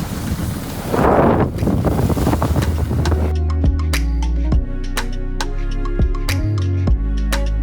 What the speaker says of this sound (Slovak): Dúfam, že máte pocit, pretože dosť fúka.